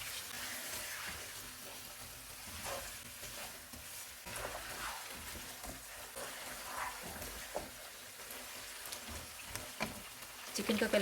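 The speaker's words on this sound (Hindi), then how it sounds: "इसमें चिकन डालेंगे। चूल्हे को मीडियम रखेंगे और चिकन का कलर चेंज होने तक इसको पकाएंगे।" Chicken frying in a pot over a medium flame for Afghani pulao, a steady faint sizzle with intermittent scraping stirs, growing a little louder near the end.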